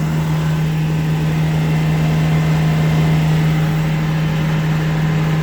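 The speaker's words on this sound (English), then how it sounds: "Got both mowers running just for a couple of minutes." Two mowers running together on a farm, making a loud, steady engine drone with a strong low hum that holds unbroken throughout, with no voices.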